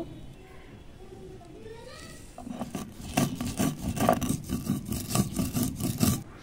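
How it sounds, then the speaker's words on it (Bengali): Roasted cumin, coriander, fennel and two dried red chillies are crushed on a shil-nora grinding stone, with quiet talk at first and then close rhythmic rasping, scraping strokes. "জিরে, ধনে, মৌরি আর 2টো শুকনো লঙ্কা হালকা করে ভেজে নিয়েছি। শিলনোড়াতে গুঁড়ো করে নেব।"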